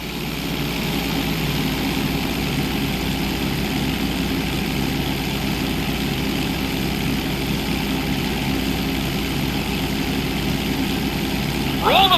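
Steady propeller-plane engine drone held at a constant level during a pilot license flight test in a GTA game, loud and close, with a brief sharp sound near the end.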